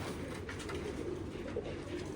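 Jamuni pigeons coo in a steady, low murmuring drone, several birds overlapping without pause at moderate volume, with no voices.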